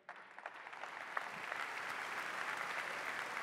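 Audience applause at a ceremony honouring the Vendée cycling sector, starting with scattered claps and swelling into steady, dense clapping from a sizeable crowd in a hall, with no talk over it.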